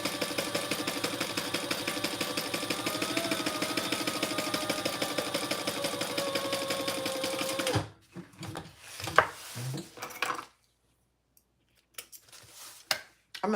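A sewing machine stitches a seam with a fast, steady mechanical chatter for about eight seconds, then stops, leaving a few faint handling clicks and rustles near the mic.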